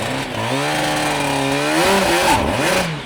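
A Suzuki two-stroke motorcycle engine on a hot day pulls away hard: a loud, close, buzzing rasp climbs steadily in pitch, then wavers and dips as revs fall and pick up again, with no talk.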